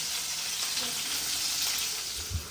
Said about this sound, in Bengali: ফ্রাই করতেছি